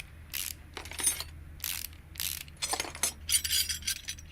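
Metallic clinks and clanks of parts being removed while taking off an outer tie rod in Car Mechanic Simulator 2018, a rusty sway bar job; short irregular bursts of bright tinkling hits separated by brief quiet gaps.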